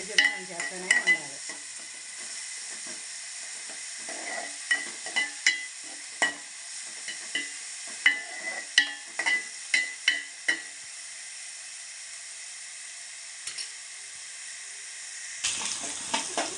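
Onions fry in a pan in a home kitchen, a thin continuous hiss punctuated by light, intermittent scrapes and clicks of stirring.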